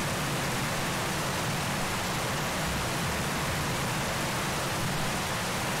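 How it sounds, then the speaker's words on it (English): Dense, loud rain from the Bee Movie game pours in a steady, even hiss that fills the whole stretch with no pauses and no voices. "Is this Tarkov rain?"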